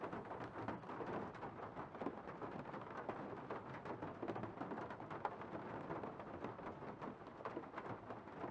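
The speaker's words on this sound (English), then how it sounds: "Isn't it raining?" Steady rain falls outdoors in a garden in the game Nancy Drew: Legend of the Crystal Skull, a dense continuous hiss of drops at low level, with no voices over it.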